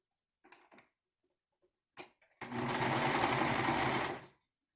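A serger stitching a ninja mask starts with a few faint ticks and short bursts, then runs in one loud, steady whir for about two seconds before stopping.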